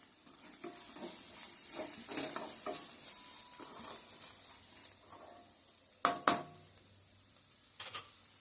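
Chili powder sizzles softly in a pan while a spoon stirs and scrapes it, ending with a couple of louder clanks of metal on the pan.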